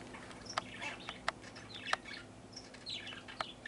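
Two pet birds chirping and calling back and forth indoors, quick sharp tweets and short warbled phrases scattered over a faint steady hum, close and fairly quiet.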